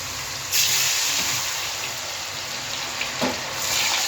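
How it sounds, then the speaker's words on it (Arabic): Potatoes fry in hot oil in a pan, giving a steady, loud, close sizzle and hiss that swells briefly now and then as pieces settle. "حاطه فيها زيت والزيت سخن. هعمل شوية بطاطس مقليين"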